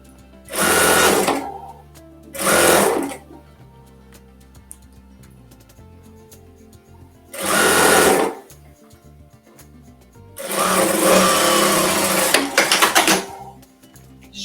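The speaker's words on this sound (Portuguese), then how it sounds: "Vou costurar aqui a base." A sewing machine stitching the base of a carrot-shaped ecobag runs in four bursts: two short runs, a pause, another short run, then a longer steady stretch, each a loud, close, rapid mechanical whir.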